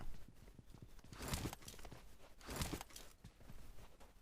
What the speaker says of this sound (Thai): โอเคเสียงเท้าเพื่อน